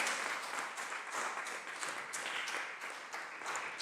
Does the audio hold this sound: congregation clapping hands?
yes